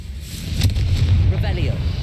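A Confringo fire spell bursts in the wizarding game Hogwarts Legacy, a loud sustained explosive blast with rumbling low end and crackling debris, under which a voice calls out the spell name.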